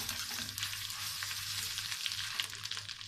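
Tomato and pepper paste sizzling in hot oil in a pot for lentil soup, a steady bright hiss with crackles and a low hum underneath, close and continuous.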